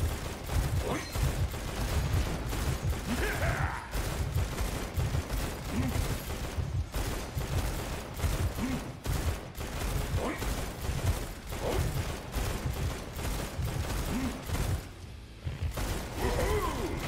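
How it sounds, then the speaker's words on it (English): Rapid, continuous video game gunfire, dense bursts of shots and mechanical clatter running loud and close nearly the whole time with only brief gaps. "I'm just shooting blindly!"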